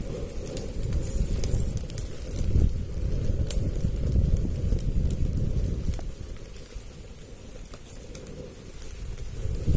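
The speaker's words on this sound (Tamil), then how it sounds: "மலர் சூப்பரா எரியுது வாணல் நல்லா சூடாயிடுச்சு" A wood-fired stove burns with a close, steady roaring rumble and light crackle while it heats a pan for frying medu vada in a village kitchen.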